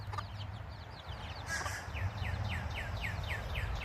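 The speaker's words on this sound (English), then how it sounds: "Our little duckies and our little chickens." Small farm chickens cluck in a quick, repeated series of short calls, fairly close but not loud, over a steady low background hum.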